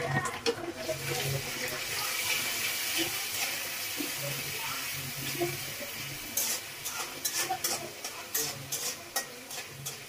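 Ginger and garlic paste frying in oil hisses and sizzles steadily while a spoon stirs and scrapes the pan with repeated sharp clicks, and a voice talks intermittently over the cooking.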